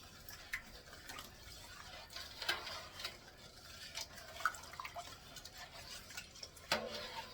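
A spoon stirs strawberry pie filling in a pot, making faint, irregular scraping and clinking taps on the pot for several seconds.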